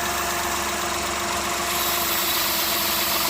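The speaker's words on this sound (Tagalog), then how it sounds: "nakikita nyo yung pagbabago ng tunog ng ating makina" A car engine with a vacuum leak idles close by with a steady, dense hum and vibration as the RPM drops. The rough drone carries a faint knocking texture and continues without a break.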